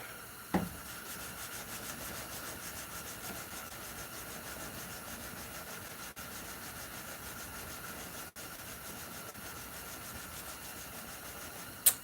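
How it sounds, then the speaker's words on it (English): Steady, continuous scraping rub of hand sanding a knife blade, even and unbroken throughout, with a couple of brief knocks near the start and end. "Can't make pretty knives without hand sanding"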